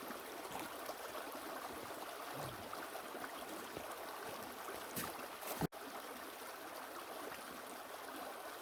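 Long Creek flowing in the Hercules Glades Wilderness in January, a faint, steady distant rush of water with a sharp click or knock partway through.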